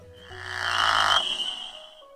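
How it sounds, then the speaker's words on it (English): A pickerel frog lets out a single drawn-out, nasal snoring croak lasting about a second, near and fairly loud, with quiet afterward and no speech. "Pickerel Frogs,"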